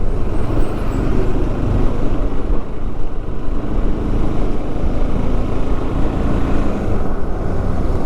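A bus speeds along a smooth tarred road through forest near BR Hills, its engine a loud, steady roar with constant road noise throughout and no talk.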